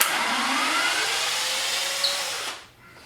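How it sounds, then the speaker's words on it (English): A power drill backs screws out of a wooden lattice, its steady whirring motor running close and loud for about two and a half seconds before cutting off and winding down. "Now we're just going to take the screws out."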